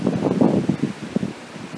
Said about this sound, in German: Meine Leute, ist das heute windig, Leute.